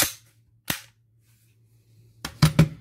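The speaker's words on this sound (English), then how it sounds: "So this is definitely a fun little airsoft pistol." A Glock 18 Tactical airsoft pistol fires indoors: one sharp snap, a pause, then a quick cluster of three close, crisp pops, each with a short mechanical clack.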